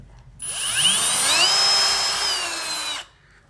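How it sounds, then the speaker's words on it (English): A power drill whirs up and runs steadily for about two and a half seconds drilling a small hole in a ceiling, then stops; a close, high whine with no talking. "And drill a little hole"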